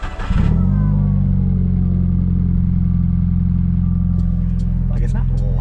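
An idling Honda EF Civic engine, preceded by a brief burst of revving at the start, then a steady low rumble that settles into an even idle, close and fairly loud, with a few light clicks near the end.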